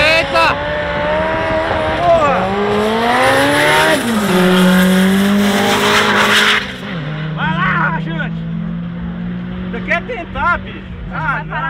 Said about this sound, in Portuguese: O golzinho vai esquentar os freios tudinho.